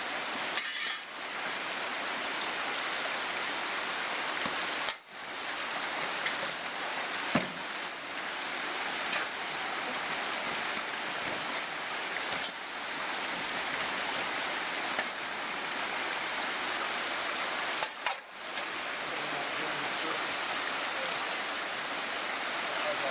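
Steady broadband rush of the East Fork San Gabriel River flowing close by, continuous for the whole stretch, with a few brief clicks and gaps and faint voices now and then under the water.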